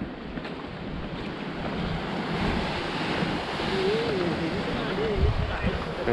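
Sea waves washing against a stone coastal fort at low tide, a steady broad rushing surf mixed with wind noise on the microphone, continuous and moderately loud.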